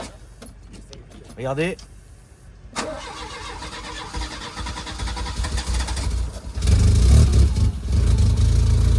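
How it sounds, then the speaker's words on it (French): A car engine cranks several times before catching and settling into a running idle, close by, with people talking over it. "elle va pas démarrer du premier coup, c'est normal"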